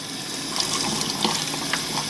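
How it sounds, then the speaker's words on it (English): Tap water runs steadily over the impeller chamber of a Fluval FX6 aquarium canister filter during rinsing, a close, continuous gushing splash with no talk. "Just want to rinse it underneath the water, get everything off of it."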